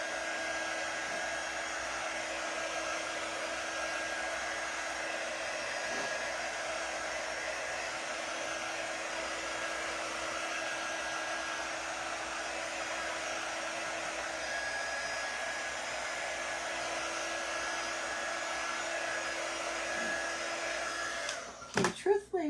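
Hair dryer blowing steadily on a painted scarecrow craft, a continuous even whir close by for the whole stretch, ending with a few brief clicks and bumps.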